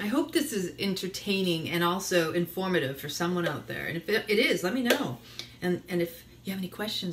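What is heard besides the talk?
No everyday noise stands out behind the speech.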